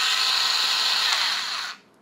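USB-powered electric multi-cutter scissors, meant for cardboard, whir with a steady high-pitched motor buzz for under two seconds before switching off and spinning down.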